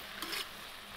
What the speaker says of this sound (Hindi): अब अच्छी तरीके से हम चला के मिक्स कर देते हैं नमक को।